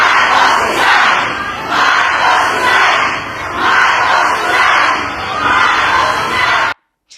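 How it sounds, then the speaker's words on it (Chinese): A crowd of Duterte supporters waving flags shouts war cries in loud, rhythmic surges that repeat roughly every second or so, then cuts off sharply near the end. "还有这种说要爆发战争的呐喊"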